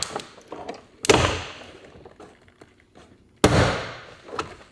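Sharp plastic snaps as trim clips pop free from a 2023 Volkswagen Tiguan door panel, two loud cracks followed by smaller rattles and taps, close-up with no speech.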